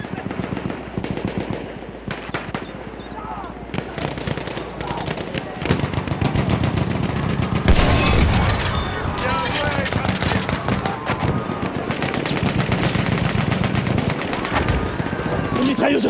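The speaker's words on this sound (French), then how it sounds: "Mitrailleuse ennemie!" Enemy machine gun fire in the video game Battlefield 1, loud, dense rapid bursts of automatic gunfire running almost the whole time with scattered heavier shots and battle noise, peaking in a thick volley midway.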